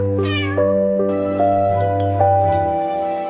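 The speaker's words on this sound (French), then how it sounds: "Le chaton ronronnait et explorait tous les couloirs" A kitten meowing, with about four drawn-out meows in a row, close and clear against a quiet background.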